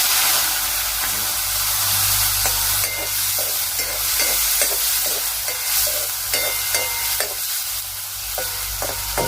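Chopped onions frying in hot oil with cumin for a raw mango and onion curry, a loud steady sizzle with repeated rhythmic scraping strokes of stirring throughout.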